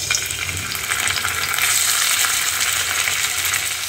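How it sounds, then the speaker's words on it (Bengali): Fish frying in a pan: a steady, dense sizzle and crackle of hot oil fills the whole stretch, with faint stirring and a watery hiss beneath it and no voices. "মাছগুলো একটু ফ্রাই করে নিই"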